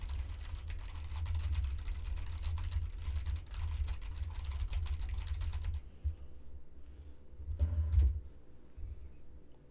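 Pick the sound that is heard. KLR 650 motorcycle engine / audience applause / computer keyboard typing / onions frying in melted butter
computer keyboard typing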